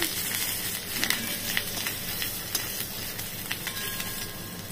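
Asafoetida and ginger frying in hot oil for pomfret, a dense continuous sizzle and crackle with light pops throughout, close and moderately loud, no voices.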